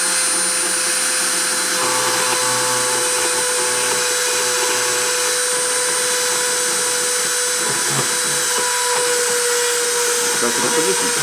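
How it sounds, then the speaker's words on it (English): A machine spindle runs steadily through a deposition process, giving a continuous whine and hum with a strong sustained tone and broadband noise throughout, fairly loud and unbroken, with a little speech-like sound faintly mixed in. "So I'm going to turn the spindle on and start the deposition."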